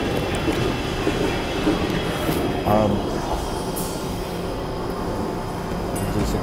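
A train pulling into Birmingham New Street station, a steady rumble of rail noise and carriage clatter in a large echoing station, with a brief squeal, passing close and loud throughout the clip.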